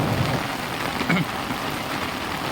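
Heavy rain pours down in a steady, dense hiss that stays even throughout, with a brief faint murmur rising over it partway through.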